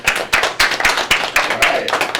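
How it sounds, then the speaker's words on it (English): Lively crowd applause welcoming a blind magician onto the stage at a magic show, loud and close with sharp individual claps standing out over the steady patter of many hands. "let's give it up for the amazing blind magician, Ryan Fox. Round of applause."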